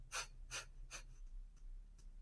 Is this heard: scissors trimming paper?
no